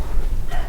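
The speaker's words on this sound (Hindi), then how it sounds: "और कुत्ते बार बार क्यों भौंक रहे हैं" Dogs bark at night outdoors, a short burst of rough barking close and fairly loud over low rumbling background noise.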